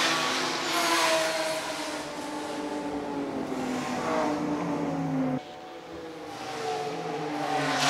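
Porsche race cars circuit the WashCar Riga Summer Race track, a steady loud engine drone whose pitch climbs and falls as cars accelerate and brake, with a short dip before the roar builds again.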